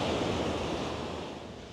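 Big ocean waves roll and crash at Boracay beach, a dense continuous roar of surf with wind noise that eases slightly toward the end, nobody speaking.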